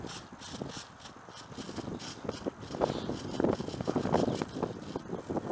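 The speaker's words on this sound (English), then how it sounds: "Really windy today." Strong wind buffeting the microphone at an outdoor model airplane runway, a steady rushing roar with gusty swells and some rattling, loud and close with no talking.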